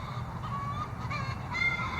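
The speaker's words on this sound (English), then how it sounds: "pardon the chickens in the background" Chickens cluck and squawk in a yard nearby, a steady, slightly harsh stream of calls with brief rising notes, continuous over a quiet outdoor background with no speech.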